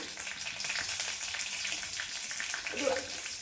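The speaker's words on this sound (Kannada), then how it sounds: "ಒಂದು ಸ್ವಲ್ಪ ಚೆನ್ನಾಗಿ ಫ್ರೈ ಆಗಲಿ ಇದು" Bitter gourd frying in a pan with garlic and green chillies, a steady bright sizzle and crackle running throughout at close range, with no voices.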